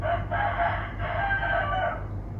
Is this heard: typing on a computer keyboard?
no